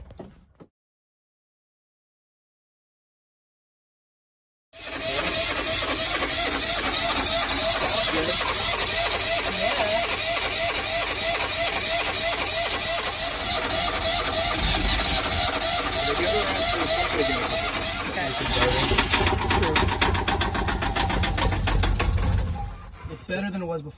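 A sailboat's diesel engine, just primed with fuel until the air bubbles stopped, runs steadily and loudly after a few seconds of silence, its rapid mechanical chatter continuous to the end, with brief talk nearby.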